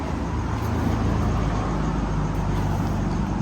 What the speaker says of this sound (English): Jeez, so many cars.